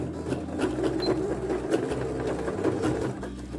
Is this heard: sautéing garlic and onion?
no